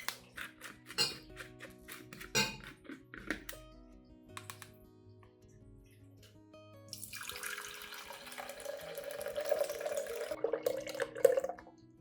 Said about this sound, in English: Now, pour the entire mixture into a large container.